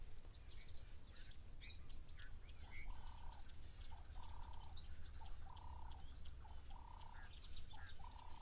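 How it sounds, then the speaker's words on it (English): Wattled starlings flock and call at a waterhole, giving many faint, overlapping chirps and whistles at a distance. Lower cooing notes and frog-like calls repeat against steady outdoor background noise. "Some wattle starlings again, all flocking about."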